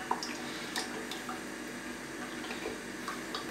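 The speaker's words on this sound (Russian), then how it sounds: "Прям льем и не жалеем, нам надо было, чтобы наши шарики в этом масле плавали." Cooking oil poured from a bottle into a pot for deep frying, a soft, steady liquid stream with faint trickling and splashing at low volume, with no speech.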